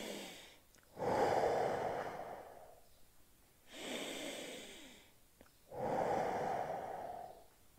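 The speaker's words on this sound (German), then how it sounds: "Und fünfmal tief atmen." Deep breathing during a morning fitness stretch: three long, slow, loud exhalations spaced a few seconds apart, each with a soft breathy rush, close and alone without talk.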